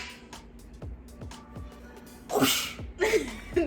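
A person imitates a sneeze with their voice, giving two loud, breathy bursts near the end after a stretch of quieter background noise.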